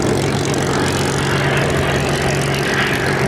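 A Grumman F8F Bearcat piston-engined propeller fighter comes in to land at the Duxford Summer Airshow, a steady loud droning engine roar that holds constant throughout without pause.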